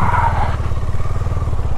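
A KTM Duke 250 motorcycle engine idles steadily while the bike is being parked, giving a close, loud, evenly pulsing low rumble throughout with no revving.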